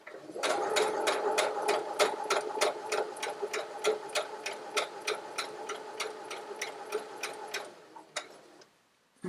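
A sewing machine stitches fabric for baby name blocks in a steady rapid run of needle strokes, close and alone, slowing and stopping near the end.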